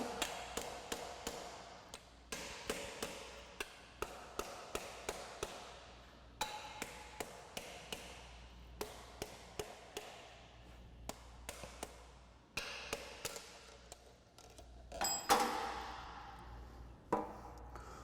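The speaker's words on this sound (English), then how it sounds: "use a hammer, and I'm going to go ahead and knock this seal off" A long series of sharp metallic hammer knocks on a heavy-duty spindle-mounted seal, struck one after another at a steady pace with a ringing clang near the end, and no voices.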